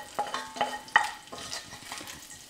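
Thick-cut bacon frying in a pan, crackling and popping in sharp bursts over a thin sizzle, with a few clinks of a utensil against the pan, close and clear.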